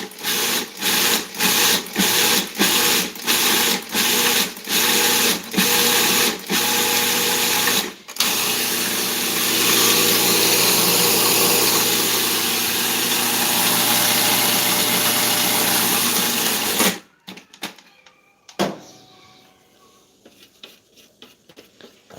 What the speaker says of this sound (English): I have to leave this grinding for a bit